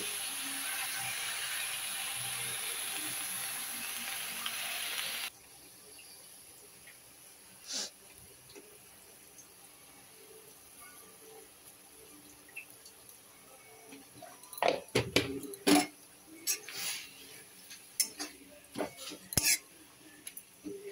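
Drumstick leaves dropped into a hot kadai give a steady, bright sizzling hiss for about five seconds, then the frying quiets to a low crackle broken by scattered metallic clinks and scrapes of a utensil against the pan.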